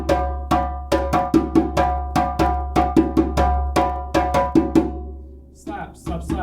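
Hand-played djembe accompaniment pattern alternating sharp slaps and rounder open tones in a steady, repeating rhythm, close and clear, with a voice starting to speak at the very end.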